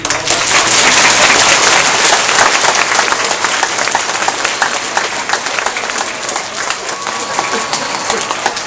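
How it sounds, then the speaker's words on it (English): Loud, dense round of applause from an audience of staff and families at an elementary school presentation, a full wash of clapping that holds steady and slowly eases, with a brief spoken word. "please join me in with a round of applause"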